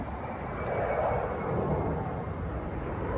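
A broad, steady roar of a passing airplane fills the air, loud and continuous with no breaks, like a jet flying low overhead.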